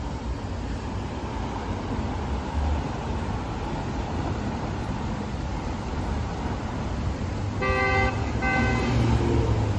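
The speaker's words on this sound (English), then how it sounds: "Honk honk." Two short car horn toots sound near the end over a steady rumble of road traffic in Seoul, South Korea.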